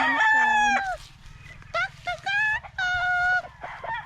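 Chickens at a farm in Negros calling loudly, with several long drawn-out crowing calls in a row close by, separated by short pauses, over a steady low background hum.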